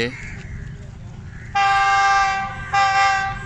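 A GE 40 diesel locomotive hauling a train arrives at Pano Aqil Cantt railway station in Sindh, sounding a loud sustained two-part horn over rumbling engine noise, the horn dropping briefly before blasting again.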